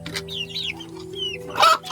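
A chicken clucks nearby in soft, broken calls, with birds chirping in the background over a low steady hum, ending in a louder squawk.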